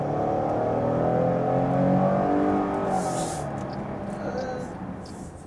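Chrysler Pacifica minivan accelerating as the driver presses the pedal, a steady engine hum that swells slightly and then eases off, with a faint voice near the end.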